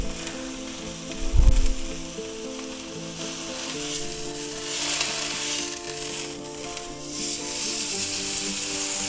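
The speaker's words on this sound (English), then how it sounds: "we're going to get a good sear on that side, then we're going to flip it over" A sirloin steak sears in a frying pan with a loud, continuous hiss and crackle, opening with a brief heavy thump and rustle before settling into a steady sizzle that swells slightly later on.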